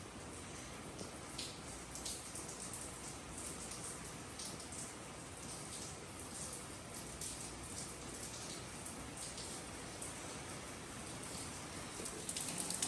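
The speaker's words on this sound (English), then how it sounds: "it started raining again" Steady rain falls outside a garage where a 2006 Chevy Express 2500 van has just been pulled in, a dense, even hiss of drops on surfaces that holds for the whole stretch with no talking.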